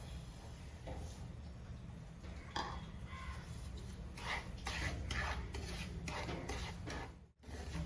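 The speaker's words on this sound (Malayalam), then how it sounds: "നമ്മുടെ പാൻ ചൂടായിട്ടുണ്ട് നമുക്ക് റവ ഇട്ട് കൊടുക്കാം" Semolina (rava) dry-roasting in a hot pan for a Kerala-style sweet, stirred with repeated scraping strokes against the metal over a steady low background hum, with no talking.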